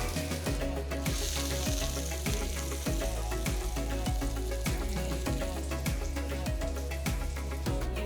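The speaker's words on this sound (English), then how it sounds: "For the Tawa Pulao, I have taken a nice wide tawa. Add about 50 grams of butter." About 50 grams of butter melts and sizzles steadily on a wide, hot tawa for tawa pulao, with a loud, continuous frying hiss and soft periodic clicks throughout.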